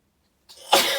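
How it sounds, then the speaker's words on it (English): One sharp sneeze breaks a brief silence, starting with a short intake of breath and then bursting out loud and close. "excuse me, I'm going to sneeze"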